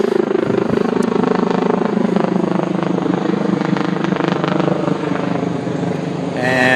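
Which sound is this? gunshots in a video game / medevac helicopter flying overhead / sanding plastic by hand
medevac helicopter flying overhead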